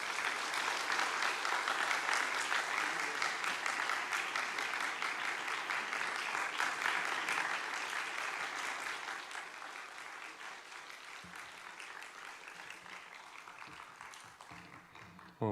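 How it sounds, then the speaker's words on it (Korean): A church congregation at a Friday worship service applauds to welcome a guest speaker, a long, dense wash of clapping that stays steady and then slowly fades toward the end. "우리 강사님 나오실 때 박수로 환영하겠습니다"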